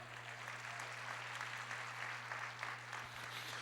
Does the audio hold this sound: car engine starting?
no